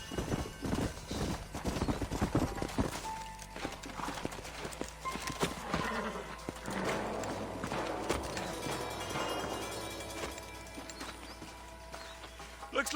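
Horses' hooves clip-clopping at a walk in Red Dead Redemption, a steady uneven patter of hoofbeats with a horse whinnying and snorting, and a voice talking under the sound.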